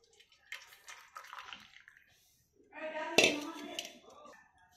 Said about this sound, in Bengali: তো আমি এখন এই চা গুঁড়োটা মানে চা পাতাটা এটা থেকে আলাদা করে নিচ্ছি, মানে ছেঁকে নিচ্ছি